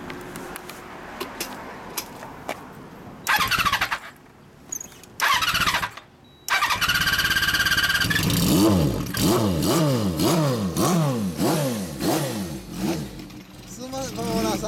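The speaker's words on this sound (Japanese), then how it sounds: "エンジン音聞かせてもらえますか？" A 1975 408 motorcycle engine at a bike gathering: it sputters in short bursts with gaps between them, then settles into a run of repeated sharp revs rising and falling, close and loud. People talk in the background.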